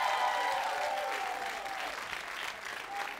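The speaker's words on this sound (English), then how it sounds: "Clap it up for Mark Vieira one more time" A comedy club audience in Brooklyn claps and cheers for a comedian, applause starting loud and fading slightly while a host's voice carries over it.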